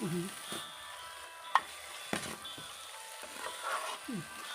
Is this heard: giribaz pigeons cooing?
no